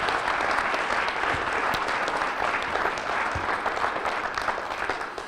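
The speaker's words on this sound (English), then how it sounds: "Give that guy a round of applause." A crowd gives a sustained round of applause at a men's conference opening night, dense even clapping that holds steady and then gently tapers off, with no talk over it.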